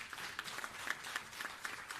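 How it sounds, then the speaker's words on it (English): A round of applause for Dr. Bellamy at the regional launch of the Blue Justice Caribbean Hub, with scattered individual claps standing out over a fairly quiet, moderately distant crowd. "I want you to give him a big round of applause"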